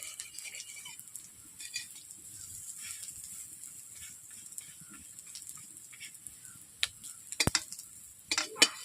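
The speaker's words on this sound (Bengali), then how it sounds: "উল্টে পাল্টে এরকম করে আমি বড়া ভাজাগুলোকে ভেজে নিচ্ছি" Fish roe fritters sizzle quietly in a pan while a spatula turns them, with faint continuous frying hiss, scattered light scrapes and taps, and a few sharper clinks of metal against the pan near the end.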